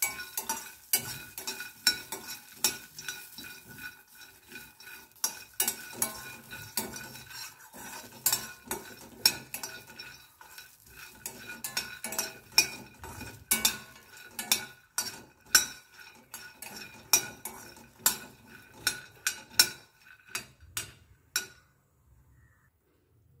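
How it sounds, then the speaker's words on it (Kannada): Peanuts dry-roasting in a pan and stirred with a metal spoon, giving close repeated scraping clinks and rattles in an uneven rhythm, with soft sizzling under them before it stops near the end. "ಶೇಂಗಾ ಹಾಕ್ತಾ ಇದ್ದೀನಿ. ಇದನ್ನು ಚೆನ್ನಾಗಿ ಹುರ್ಕೋಬೇಕು."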